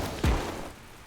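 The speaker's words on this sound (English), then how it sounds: "A shotgun. That's a cool looking shotgun." A single shotgun blast in the Teardown video game, a sharp low thump with a short rumbling tail that fades quickly, heard alone at moderate volume.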